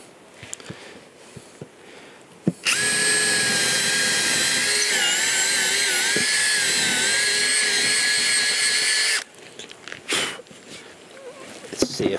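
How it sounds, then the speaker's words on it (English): A power drill whines loudly and steadily for several seconds while drilling a small hole in a countertop, starting abruptly and cutting off, with quieter clicks and handling noises before and after. "first I'm going to drill a little hole"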